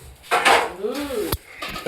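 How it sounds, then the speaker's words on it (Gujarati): Dishes and cutlery clink and clatter close by, with a sharp knock partway through and a voice murmuring briefly in the background. "વાસણ ધોવાના ચાલુ"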